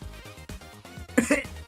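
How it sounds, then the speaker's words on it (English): A few short, rough coughs from one sick person, close and fairly loud, bunched near the end of a brief moment. "That's me coughing right there."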